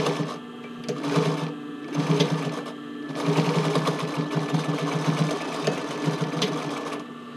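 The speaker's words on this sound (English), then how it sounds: "so I'm sewing it with a straight stitch" A sewing machine runs a straight stitch on a sports bra waistband in close, rapid rattling bursts, stopping and starting a few times before a longer continuous run.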